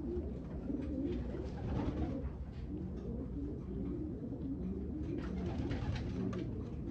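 A newly acquired racing pigeon in a breeding loft coos repeatedly, steady low burbling calls close and continuous against faint background noise, without speech.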